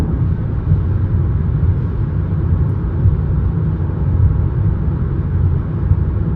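A steady low roar of tire and road noise fills the cabin of a 2025 Kia K4 GT Line, constant and droning with no speech.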